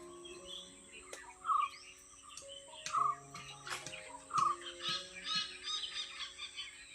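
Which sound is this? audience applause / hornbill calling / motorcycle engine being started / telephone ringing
hornbill calling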